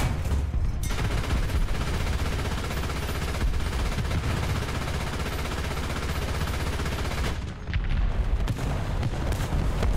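Tank cannons boom in War Thunder amid continuous loud battle noise, with dense overlapping gunfire and explosions that barely let up, dropping briefly just before a final burst.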